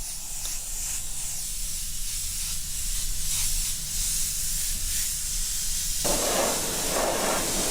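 A spray gun lays transparent purple paint over white on a custom car paint job, giving a steady, close airy hiss that runs continuously and then shifts to a brighter, harsher spray near the end.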